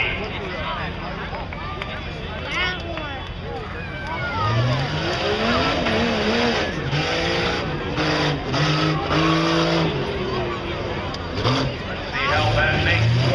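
Four-wheel drive trucks race at Buck Motorsports Park, their engines revving and sweeping in pitch as they pass and turn, loud and fairly close under continuous talk from an announcer.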